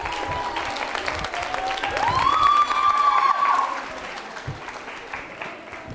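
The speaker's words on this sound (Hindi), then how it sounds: "कृष्णा गुजर, तालियां जोरों से बजनी चाहिए, जोरों से।" A crowd at a college anniversary quiz show claps loudly and steadily for several seconds, a dense applause that swells in the middle, with a sustained whistle-like tone rising over it and faint voices underneath.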